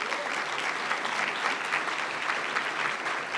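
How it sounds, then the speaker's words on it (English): An audience at a university presidential announcement claps steadily in a brief, even burst of applause. "Give these two guys a round of applause."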